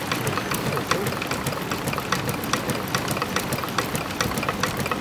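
A triple-transferator Stirling engine on a canoe runs steadily nearby, producing a continuous soft mechanical churn with regular light clicking beats.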